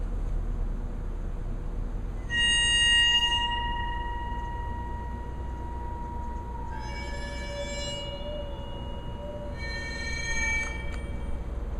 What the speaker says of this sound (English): This is the waterphone created by Richard Waters.